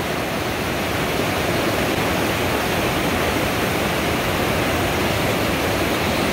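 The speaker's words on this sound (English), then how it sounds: "That is a lot of energy right there. That's a lot of water power." Silty glacier runoff at Franz Josef Glacier rushes in a loud, continuous broadband roar of torrential water, close and unbroken with no voices.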